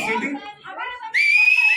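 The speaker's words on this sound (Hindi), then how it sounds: "एक बार सीटी बजा के बताओ मेरे को" At a Jaat movie trailer launch at a PVR cinema in Juhu, Mumbai, a woman lets out a loud, shrill sustained whistle after a few seconds of talk.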